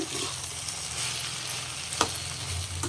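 Chopped cabbage is stirred in a hot frying pan, giving a steady close sizzle with soft scraping and one brief clink of the spoon against the pan.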